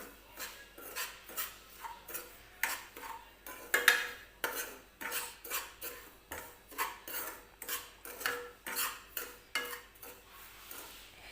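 Semolina with a spoonful of oil is dry-roasted in a pan over low heat for upma, stirred in steady, evenly spaced scraping strokes that repeat about twice a second, close and fairly soft.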